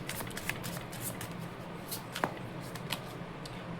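Tarot cards are shuffled and drawn by hand, a soft continuous riffling with several sharper snaps, quiet and close.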